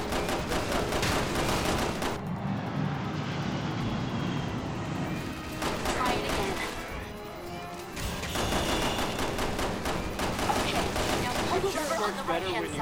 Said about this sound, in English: Those zombies have fucking guns.